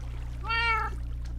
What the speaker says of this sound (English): I hear a kitty, though.